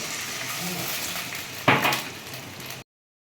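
Water poured onto spices frying in a pan bursts into a sharp sizzle partway through, after quieter stirring and clinks of cookware, then cuts off abruptly.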